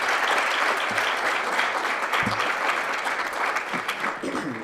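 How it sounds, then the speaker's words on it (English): Sustained applause at an awards ceremony honoring two scholarship winners, a dense steady clapping from the audience that holds for several seconds before tapering slightly. "So another round of applause for them."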